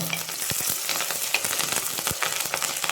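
Crushed spices and curry leaves fry in hot oil while being stirred gently in a pan, a dense close sizzle broken by scraping stir strokes, with no talking.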